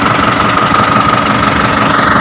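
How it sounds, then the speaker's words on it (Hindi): A tractor engine runs in gear with the PTO engaged, a loud, close, steady rumble with a knocking pulse and a constant mid-pitched whine throughout. "अब ट्रैक्टर को गियर पे लगा के मूव करके देखते हैं।"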